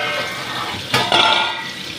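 Tangra fish laid into plenty of hot oil in a pan crackle with a steady broadband sizzle that swells sharply as pieces go in, close and loud.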